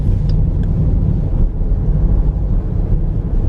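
A Hemi-powered Dodge Durango RT driving through a snowstorm, heard from inside as a loud, steady low rumble of engine and road noise with wind buffeting and no talking.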